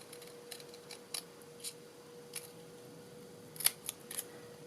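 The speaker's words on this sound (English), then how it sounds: "Let me grab my large scissors, my very old, very dirty, as in the handles are dirty, large scissors, and be brave." A pair of very old, large hand scissors snips through fabric in a quiet room, making a handful of sharp, separate cuts at an uneven pace, with one louder snip near the end.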